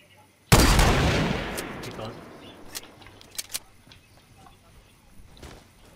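Gunfire in the video game Fortnite: one loud, sharp blast with a long decaying tail, followed by a few scattered lighter shots and clicks.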